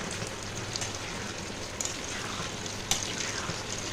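Taro pieces stirred in sizzling spiced masala of ginger, cumin and chilli paste in a pan, a steady crackling fry with a few sharp clicks from the stirring.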